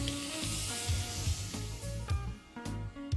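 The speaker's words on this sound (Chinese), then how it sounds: "锅烧热之后放一点油，我们就开始下这个牛排" Beef steak pan-frying in a little hot oil, a close crackling sizzle with sharp spits and pops over a steady hiss, short and alone.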